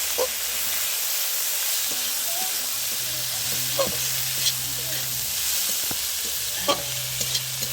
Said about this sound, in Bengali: এটা পুরো ভাজা ভাজা করে নেব।